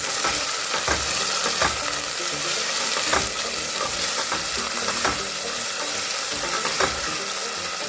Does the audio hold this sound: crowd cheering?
no